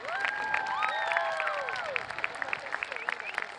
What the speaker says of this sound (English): Students, you better start clapping.